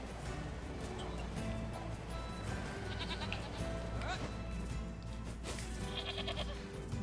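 Goats bleat in the video game NieR Replicant, with several calls rising over dense game music and ambience throughout.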